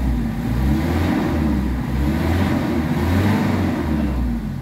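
A Mitsubishi Adventure engine with weak pulling power is revved toward about 3,000 RPM, a steady, close, droning rumble with slight rises in pitch and no talking over it.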